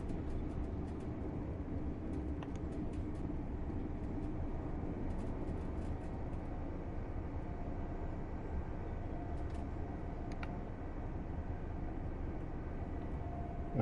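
A passing train in the Train Sim World 4 video game gives a steady, loud, broadband rail rumble with faint high clicks throughout, and no voices.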